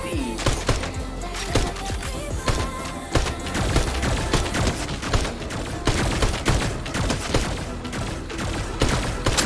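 Rapid, dense bursts of gunfire from a mythic weapon in the Fortnite video game hammer away almost continuously and loudly, mixed with in-game impacts and effects.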